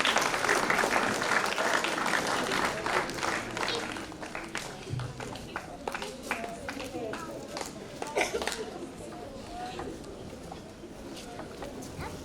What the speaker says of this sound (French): On applaudit Mathis.